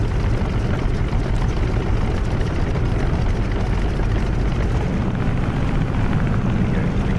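A FlyingIron F6F Hellcat taxis on the ground in Microsoft Flight Simulator 2020 on Xbox Series X, its radial piston engine giving a steady, loud, broadband propeller drone that runs without a break and carries no talk.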